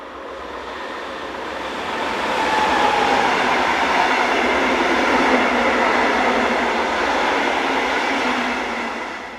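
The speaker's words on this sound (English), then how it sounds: "Class 146s are again seen on regional services, such as this one bound for Bremen." A Class 146 regional train bound for Bremen passes close by, its loud rumbling roar and rhythmic wheel clatter swelling in, holding for several seconds, then easing away.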